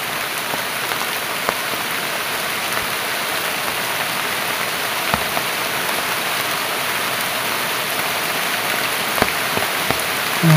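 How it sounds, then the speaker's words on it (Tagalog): Heavy rain pours down in a continuous loud hiss, with occasional sharper drop impacts standing out against the steady downpour. "malakas yung ulan guys."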